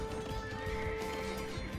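A horse whinnies in a medieval strategy video game, a faint, buzzy neigh set within a dense wash of game music and ambient noise.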